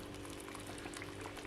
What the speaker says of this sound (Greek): Πάμε να ξεκινήσουμε βράσιμο.